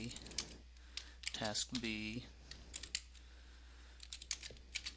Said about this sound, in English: So at this point, I would then proceed with typing